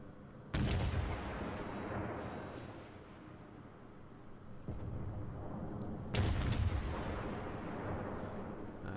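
In World of Warships, a Pensacola cruiser fires naval gun salvos of high-explosive shells: two heavy booming salvos several seconds apart, each followed by a long rumbling roar, loud and close with no talking.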